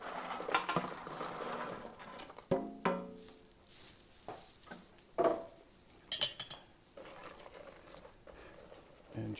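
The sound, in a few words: stirring pecans into praline candy mixture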